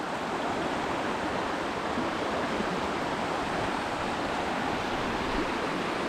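River water rushes steadily beside a coconut farm, a continuous broadband flow with no pauses and no voices.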